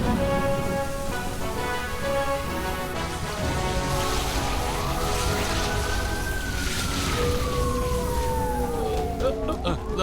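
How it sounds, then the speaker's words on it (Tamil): Ambulance siren wailing amid heavy rain in a tense movie rescue scene, a rising and falling tone sweeping over steady downpour and layered rumble, moderately loud and drawing nearer. "ஆம்புலன்ஸ் வந்துருச்சுப்பா."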